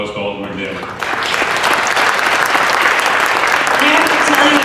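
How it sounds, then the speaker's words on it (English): An audience at a Lincoln Park lecture breaks into applause, a dense, sustained clapping that swells after a brief opening and holds steady, fairly close and loud. "we really owe a round of applause to Alderman Daly."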